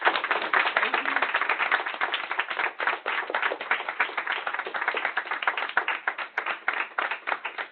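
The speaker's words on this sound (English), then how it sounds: "I think we should give Marta a big round of applause." An audience gives a long, steady round of applause after an update on the Ebola outbreak in the Democratic Republic of Congo, dense clapping that stays loud throughout and starts to thin near the end.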